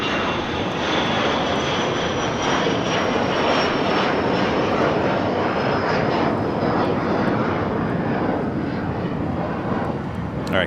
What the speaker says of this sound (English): We do have the A380 pushing it back from the gates.